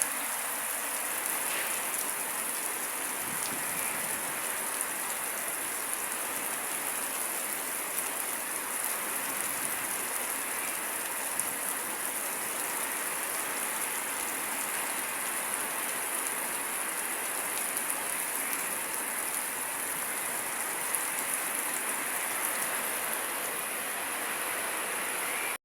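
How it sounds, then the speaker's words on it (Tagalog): Heavy rain pours down with strong wind in a continuous dense roar, steady and loud throughout, with no voices. "Sobrang lakas po ng hangin tsaka yung ulan."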